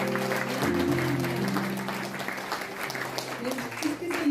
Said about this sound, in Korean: 박수 크게 보내주시죠